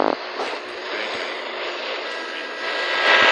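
A video-game airplane engine drones steadily on a landing approach, a loud, continuous roaring hum that holds even throughout and swells slightly toward the end, with no voices.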